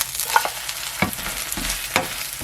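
Steady sizzling of a green onion pancake in a hot frying pan with a few scraping, clattering spatula movements as it is flipped, close and fairly loud.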